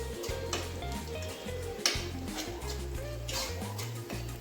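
Spices dropped into hot oil in a pan for a Marathi shevga bhaji, giving a steady close sizzle with a few clinks of a utensil stirring, no voices.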